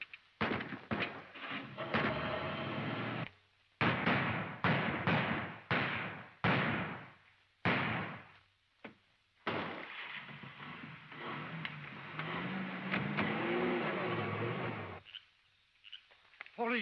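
A motor car engine sputters to life in loud, choppy bursts broken by short gaps, then settles into a sustained roar with rising revs before cutting off abruptly.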